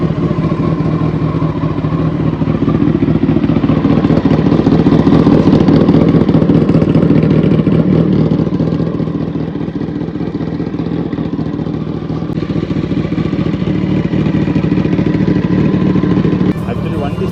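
A Kawasaki Ninja ZX14R 1400cc motorcycle idles in neutral with a steady, throaty low rumble that holds close and loud throughout, dipping slightly midway, while someone talks over it.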